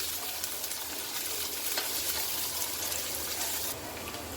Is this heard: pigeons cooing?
no